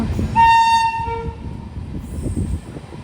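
A train horn blares loudly with sustained harmonic tones over the rumble and clatter of a passing diesel locomotive, with a second higher horn toward the end.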